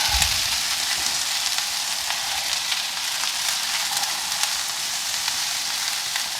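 Snow peas and chicken stir-frying in a wok give off a loud, steady broadband sizzle with faint scraping stirs throughout, no talking.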